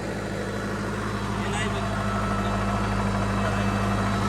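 Sonalika turbo tractor with a 15 hp upgrade, its engine running at a steady, loud, low rumbling idle close by, continuous throughout without pause.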